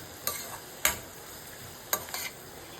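Bottle gourd curry is stirred in plenty of oil, giving a few soft scraping strokes over a faint, low sizzle, quiet and close with no talking.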